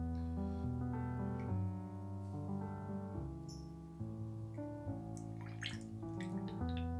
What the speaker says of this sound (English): we're going to actually add our filtered water until the mixture is about 3/4 full